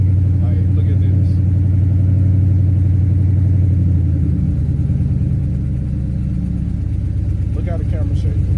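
A Ford Crown Victoria's exhaust rumbles steadily and loud from right under the floor, a deep continuous drone with engine hum throughout while a person talks over it.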